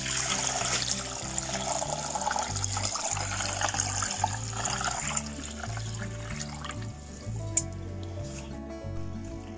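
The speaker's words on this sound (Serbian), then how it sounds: "Sada ću sipati hladnu vodu." Cold water pours into a deep cooking pot lined with a cotton kitchen towel and filled with glass jars of pepper preserves, a continuous splashing, gurgling stream at moderate level without speech.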